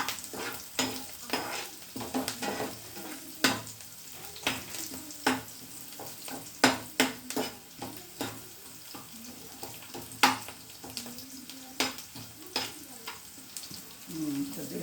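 Chana dal fries in oil in a pan for puntikura chanagapappu curry, a steady sizzle broken by frequent stirring scrapes and clinks, loud and close throughout.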